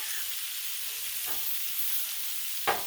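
Pierogi, kielbasa and cabbage sizzle steadily on a Blackstone griddle, a constant close hiss of frying broken by a couple of brief scraping stirs, the last one sharper and louder.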